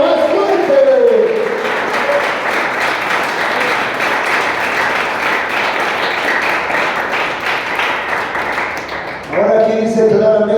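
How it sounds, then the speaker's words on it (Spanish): A church congregation bursts into loud sustained applause, a dense wash of clapping lasting several seconds, with a preacher's voice briefly at the start and again as it fades. "Dale un fuerte aplauso a Dios. No, dáselo más fuerte."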